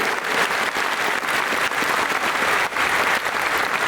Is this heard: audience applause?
yes